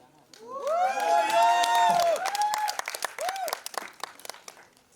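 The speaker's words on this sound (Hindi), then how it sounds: "एक बार जोरदार तालियां" Loud audience applause and cheering at a live Dolce & Gabbana fashion event, with shouts and whoops rising over clapping while voices call out through the crowd.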